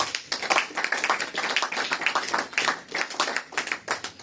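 A church congregation claps together in a steady, fast rhythm, a dense and continuous wash of hand claps filling the room with no voices standing out.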